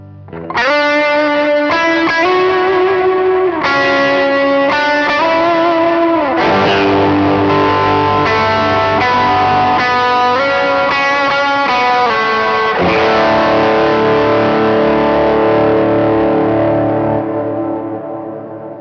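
A high-gain distorted electric guitar tone from a Line 6 Helix patch plays loud, sustained chords and riffs for several seconds, then rings out and fades, with no talking.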